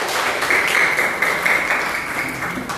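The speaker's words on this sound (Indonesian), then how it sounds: "tepuk tangan untuk kita semua" A school class claps together in steady, dense applause that stays even throughout, nearby and moderately loud.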